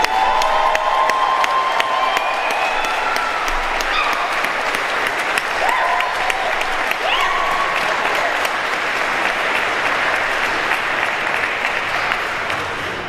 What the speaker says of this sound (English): Let's have a round of applause for the city's planning team.